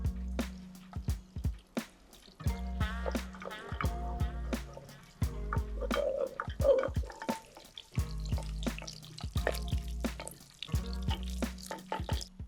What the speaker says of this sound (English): fat goes in. And just let it render slowly